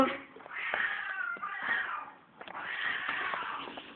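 A cat meows repeatedly in drawn-out, rising-and-falling cries, close and fairly loud, with brief gaps between calls and faint voices around it.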